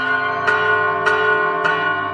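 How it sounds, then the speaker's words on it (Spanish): Church bells ringing after a baptism, three clear resonant strikes evenly spaced about half a second apart, each leaving a long humming tone that carries into the next. "Miren cómo sonríe con el sonido de las campanas"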